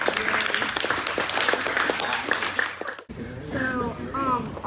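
Kids and audience give a round of applause at a LEGO building competition in a Brentwood, Tennessee store, dense clapping that stops abruptly, followed by a brief voice.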